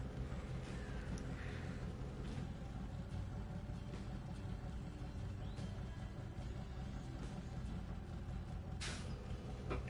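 Low, steady engine rumble of a Kenworth truck in the off-road driving game Snowrunner, running continuously at moderate loudness, with a brief hiss near the end.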